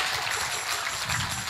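Steady, dense applause from an audience at an Islamic sermon in Banyumas dialect fills a short stretch, a continuous hiss of many hands at moderate volume with no speech.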